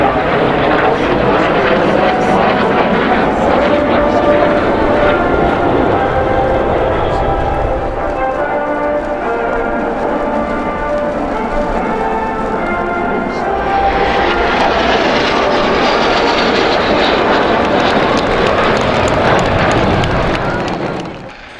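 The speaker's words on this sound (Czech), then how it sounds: "francouzský Brighting Jet Team, který se sedmi letadly L-39 Albatros předvedl opravdu parádní show" Seven L-39 Albatros jets of the French Breitling Jet Team perform at the CIAF 2011 air show, producing a loud, continuous engine roar that holds steady and then brightens and swells toward the end.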